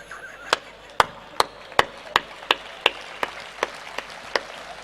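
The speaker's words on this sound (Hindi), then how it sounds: "2-3 लोग ताली बजा रहे हैं" A few people clap sparsely during a poetry recitation, about a dozen separate claps in an uneven, slow rhythm, each sharp and distinct against a quiet room with no talking.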